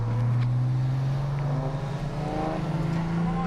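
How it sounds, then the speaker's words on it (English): An Audi A5 3.0 TDI quattro drives on the Donington Park track, its engine droning loudly and steadily with a slowly rising pitch from inside the car. "So, we're just taking Bobby out in the A5."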